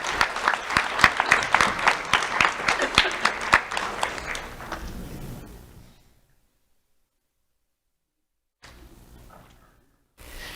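Lively audience applause at a sheriff's office student awards ceremony, loud clapping that fades out within about six seconds, followed by silence and a faint brief rustle.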